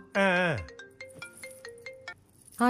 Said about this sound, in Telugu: కొంచెం ఇంపార్టెంట్ ఫోన్ కాల్